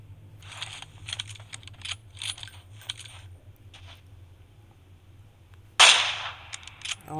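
A single sharp AWM sniper rifle shot in PUBG Mobile on Miramar cracks out near the end, loud and sudden, after a stretch of faint clicking and low game ambience.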